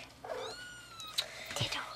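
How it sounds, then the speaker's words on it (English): Thirteen-day-old kittens let out thin, high mewing cries, one drawn-out call and a couple of shorter squeaks, faint and close, with a soft voice speaking over them. "We are reporting the 13-day-old kittens."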